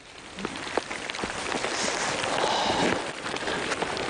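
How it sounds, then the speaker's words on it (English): Steady rain in the Simien Mountains, Ethiopia, patters on the ground and nearby surfaces, a dense close hiss with scattered heavier drops throughout. "as it starts to rain again"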